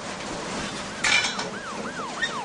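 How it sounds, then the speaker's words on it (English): Police sirens wail in a rising and falling pattern, faint and distant, with a brief clatter partway through. "I can hear some police sirens"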